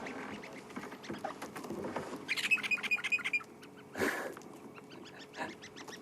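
A flock of red-billed buffalo weavers chatters overhead on an African safari, with a burst of quick, high, repeated chirps standing out over a background of scattered bird calls and faint rustling.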